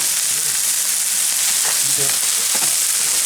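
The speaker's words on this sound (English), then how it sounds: "Now, fish is cooking really good." Fish frying in a pan outdoors at a fishing camp, giving a steady, loud hissing sizzle with a few faint bubbling pops, close by and without talk.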